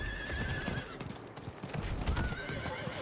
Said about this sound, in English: I've got the PvP mount now as well. I haven't got any of the armor for it, but I've got the horse itself.